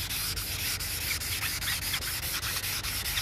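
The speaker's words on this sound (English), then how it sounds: "that squeaking is a piece of trash on your pad" Wet-sanding by hand with a pad, a steady close rubbing scrub in regular back-and-forth strokes, with faint squeaks from a bit of debris caught on the pad, no voices.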